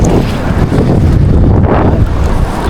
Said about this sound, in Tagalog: Lumakas ang hangin mga katropa.